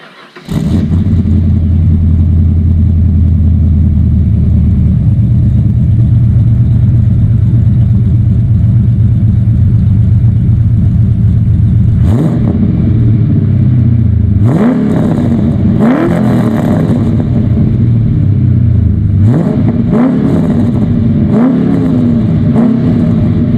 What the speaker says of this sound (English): So I'll give it a couple of revs.